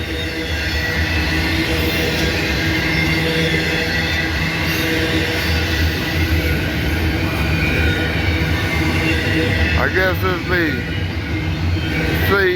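A JB Hunt intermodal container train with containers on flat cars rolls past in a steady, loud rumble of wheels and cars, with brief squeals near the end and someone talking over it.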